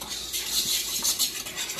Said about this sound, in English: But I'm using a whisk, and it's just lumpy as hell anyway.